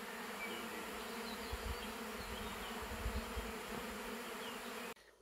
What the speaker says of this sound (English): Very happy bees.